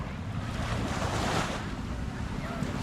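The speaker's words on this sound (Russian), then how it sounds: "Спокойное море." Calm sea waves wash along the beach at Sihanoukville, Cambodia, as a continuous soft surf hiss with gentle swells and some wind buffeting the microphone.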